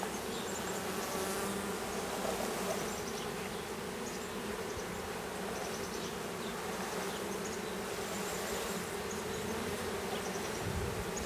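Agitated honeybees from a newly installed bee package, a dense, continuous buzzing swarm droning steadily and close throughout, with no speech.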